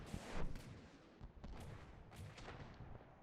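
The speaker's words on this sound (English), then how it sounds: "It must just be cram cannons." Cram cannons and other heavy guns firing in the naval combat game From the Depths, a rapid run of loud booming blasts with sharp cracking attacks, overlapping and rolling continuously.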